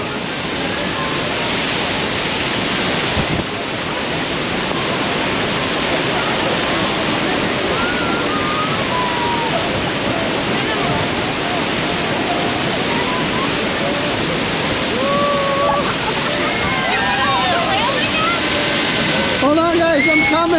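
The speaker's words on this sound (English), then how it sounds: "the power of this water" Niagara Falls roars up close from a tour boat deck, a loud, steady broadband wash of falling water and spray filling the whole stretch, with excited voices and shouts faintly audible over it.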